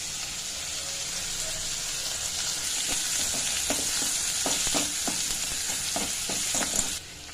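Chopped onion and curry leaves frying in hot oil, a bright continuous sizzle with crackles and several sharp spatula scrapes and knocks against the pan toward the end, close and fairly loud, no speech.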